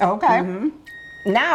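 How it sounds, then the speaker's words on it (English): Kitchen oven timer beeping between spoken words, a steady high electronic tone sounding briefly in a pause in the conversation while baking pâte à choux. "in the background, you could hear our timer going off."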